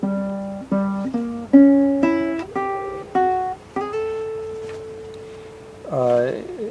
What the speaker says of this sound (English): we're going to play a diminished arpeggio